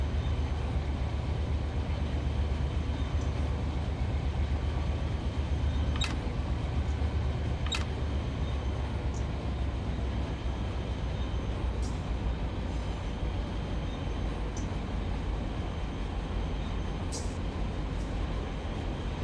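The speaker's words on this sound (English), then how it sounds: "Trying to think, what train is that?" A freight train rolls by on a flat desert stretch of the Needles Subdivision, a low continuous rumble with faint clicks and squeals scattered through it.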